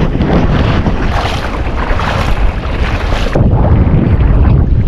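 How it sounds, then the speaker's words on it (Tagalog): Strong wind buffeting the microphone while fishing with a blue mackerel minnow lure, loud steady roar and rumble throughout with no voices. "Napakalakas ng hangin"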